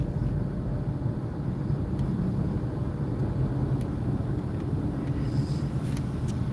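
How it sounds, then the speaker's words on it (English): Steady road traffic hums and rushes as a constant low wash of passing vehicles, moderately distant with no standout horns, and no one speaking over it. "This traffic's nuts."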